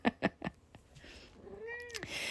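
A pet cat named Awaz meows several times, with a rising and falling drawn-out call, heard close and fairly clear with no one talking.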